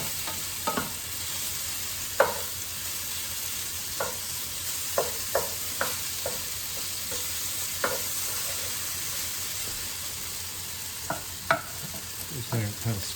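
Sliced peppers sautéing in a hot pan for a quick dinner, a soft steady sizzle with occasional light scrapes and stirring taps from a utensil, fairly quiet and close, no voices.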